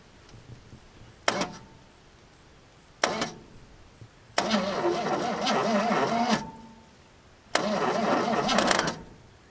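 An old truck's engine, not seized, is cranked by its starter in four bursts: two short clicks followed by two longer grinding, rattling spins, with silence between.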